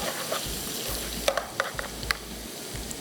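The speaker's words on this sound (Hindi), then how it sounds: "तड़के में ऑयल तकरीबन गर्म हो चुका है। गार्लिक डालेंगे, चॉप गार्लिक, हल्का सा सुनहरा कलर देंगे इसको।" Chopped garlic frying in hot oil for a tadka, a steady sizzle broken by a few sharp clinks and scrapes of a spoon against the pan, close and continuous.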